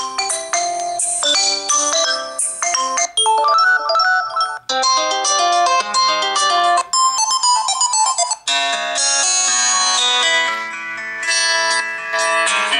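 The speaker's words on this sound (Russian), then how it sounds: "Сейчас попробую включить стандартную мелодию." A bright electronic ringtone melody plays loudly and steadily from a Xiaomi Mi MAX smartphone, its tune shifting through several phrases with no voices over it.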